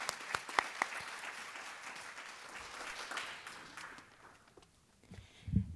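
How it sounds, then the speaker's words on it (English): An audience at the Everett Hall of Fame induction ceremony claps for two high school students, a moderate, somewhat distant round of applause that tapers off after about four seconds. "Let's give them a round of applause."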